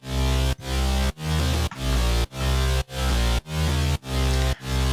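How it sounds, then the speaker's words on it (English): A layered, sustained bass synth in an electronic dance track pulses in loud, heavy chopped blocks, about eight even bursts with brief gaps, a dense wall of sound with shifting melodic notes on top. "Awesome in-your-face bass."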